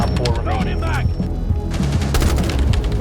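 Rapid gunfire from Thatcher's weapon in Rainbow Six Siege, loud close bursts of automatic shots in quick repeated volleys, with voices talking over the shooting.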